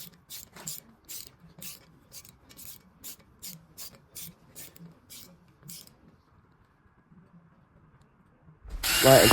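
A ratchet clicks in quick repeated bursts while bolts are hand-tightened on the engine of a 450+ hp rear-wheel-drive Ford Fiesta build, close and crisp, then stops before a loud burst of noise at the end.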